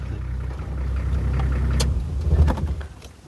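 Safari vehicle slowing and stopping on a drive, a low engine rumble that swells, then eases off, with a few small clunks near the end.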